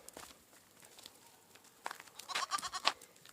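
A Nubian Kiko mix goat bleats in a short run of nasal calls clustered near the end, preceded by soft rustling and shuffling footsteps, close and fairly quiet.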